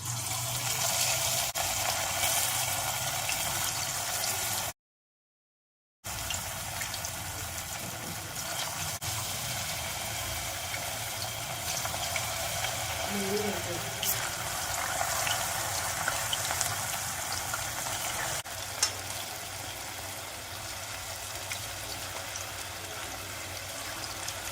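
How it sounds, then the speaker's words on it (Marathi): Cauliflower pieces frying in very hot oil for crispy gobi manchurian, a continuous dense bubbling sizzle held steady throughout with one brief dropout. "तेल एकदम कडकडीत गरम झालेलं आहे, तर हे फ्लावरचे तुकडे आपण तळायला"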